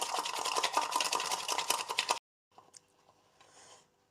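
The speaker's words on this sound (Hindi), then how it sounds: "आपने तेज़ तेज़ एक ही डायरेक्शन में चम्मच को घुमाना है।" A spoon whisks instant Nescafe coffee with sugar rapidly in one direction inside a cup, giving a dense, fast rattling scrape that runs steadily for about two seconds, then stops, leaving only faint scattered clinks.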